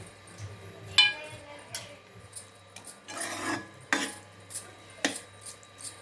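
A spoon scrapes and clinks against a pan while bread halwa is stirred with ghee and ground sugar, giving irregular close rasping strokes and light metallic taps.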